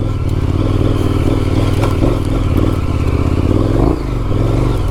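Adventure motorcycle feathering its clutch over a rough, rocky trail: a steady loud engine drone with low rumble, mixed with clattering and scraping from the loose ground, and the engine note rising briefly toward the end.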